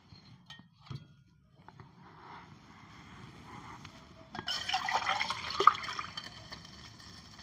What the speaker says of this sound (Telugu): ఇగో వాటర్ కూడా దీంతోనే పోసేస్తా.